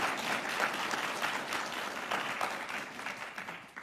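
Enthusiastic audience applause at the closing ceremony of a 15-day crash course for job aspirants in Ladakh: dense, steady clapping from a crowd that holds for nearly four seconds and tapers slightly at the end.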